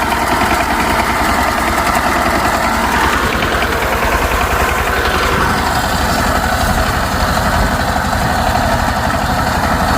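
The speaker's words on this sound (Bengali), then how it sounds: "বাসায় যদি একটা পাওয়ার টিলার থাকে তার সামনে এরকম ব্লেড লাগিয়ে ধান কাটতে পারবেন" A power tiller fitted with a front cutting blade runs while harvesting rice paddy, its engine a loud, steady, close chugging drone with continuous vibration throughout and no voices.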